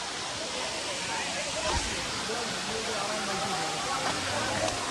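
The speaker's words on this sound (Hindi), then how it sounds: "बहुत प्यारा झरना है।" A waterfall in Pachmarhi pours with a steady, moderately loud hiss and rush, with faint voices and scattered sounds mixed in.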